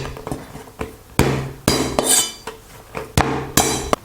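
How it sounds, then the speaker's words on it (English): Garlic cloves being bashed while prepping Kung Pao chicken: a series of about eight sharp, heavy thuds against a hard kitchen surface, loud and close, spaced irregularly with some clattering ring after each blow. "And bash 2 or 3 cloves of garlic."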